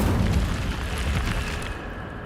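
Incendio fire spell cast in a video game, a loud rumbling burst of flame that roars at once and tails off over about two seconds, heard without talk.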